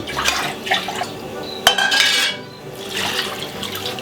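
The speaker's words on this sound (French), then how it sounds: "Et je vais mouiller 1 litre de plus." About a litre of liquid is poured into a pot of chicken cassoulet, splashing and gurgling up close and loud, with a brief clink of metal partway through.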